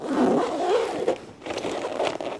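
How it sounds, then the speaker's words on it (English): A suitcase's center lining zipper is pulled open on a JZR roller suitcase, giving a close, raspy zipping run followed by a second short pull after a brief pause. "You can unzip the center lining"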